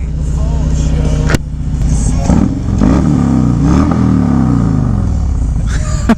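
A Harley FXRT motorcycle putters through a slow, low-speed maneuver, its engine giving a close, loud, lumpy idle rumble with small throttle blips, a sharp clack and a rattle.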